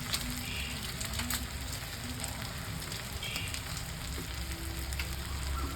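Shrimp malai curry sizzles and spits steadily in a pan as it is stirred with a spatula, a soft, continuous frying crackle heard close up with no talking.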